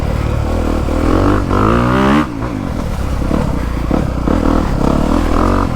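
A 2022 Honda CRF250R dirt bike ridden through the woods, its engine revving hard and continuously up and down with rising and falling pitch, close and loud throughout.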